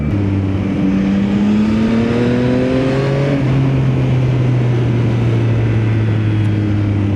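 A Yamaha XSR900 motorcycle engine revs up to around 5,000 to 6,000 RPM, the pitch climbing steadily, dropping back, then settling into a sustained, loud, close drone without any talk.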